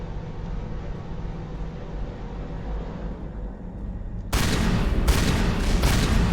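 Game gunfire from Mass Effect, a sustained noisy barrage that grows louder and harsher partway through, with sharp bursts toward the end, close and dense with no talk.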